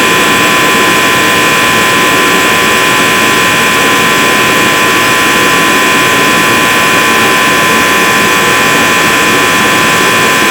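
John Deere AC-70-1 multifuel space heater running on #2 diesel, a loud, steady roaring blast of burner and fan noise with a constant whine, continuous throughout.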